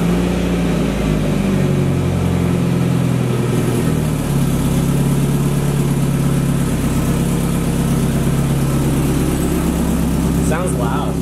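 A Mazda Miata with its catalytic converter removed starts for the first time and settles into a loud, steady idle that runs the whole time, with a brief blip near the end and people talking over it.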